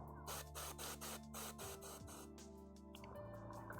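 Airbrush hissing air onto a painted Forgeworld Lion El'Jonson miniature, a steady spraying whoosh layered with a faint mechanical whine from the compressor, close and continuous.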